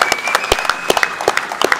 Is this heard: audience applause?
yes